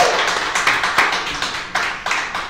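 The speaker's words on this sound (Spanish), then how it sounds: "Fuerte el aplauso para Glenda Medina." A small group applauds for a guest on a talk show, a few loud, close claps in uneven bursts with a sharp attack on each, fairly brief.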